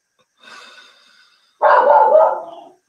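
A dog barks at night, first a softer bark and then one long, loud, harsh bark close by, with no other sounds.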